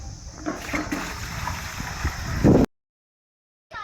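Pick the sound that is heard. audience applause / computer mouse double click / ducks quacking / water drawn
water drawn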